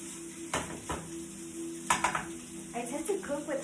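Brown rice and vegan sausage cooking over high heat in a pan for a vegan stir-fry, with a steady sizzle and a few sharp clanks of a utensil against the pan, close by.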